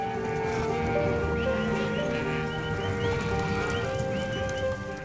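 Small Mongolian horse walking on open, windswept ground, a steady clip-clop of hooves under a bed of music, with faint animal bleats mixed in.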